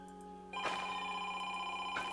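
A telephone rings in a room during a livestream, a steady electronic ringing tone that starts abruptly and carries on near the microphone, with no talking.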